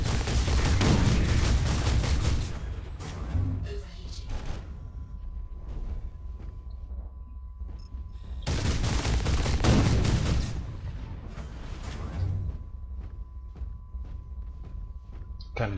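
Gunfire in the mech shooter Hawken during a team deathmatch, two long loud bursts of rapid shots separated by quieter stretches of lighter firing, with someone talking over the action.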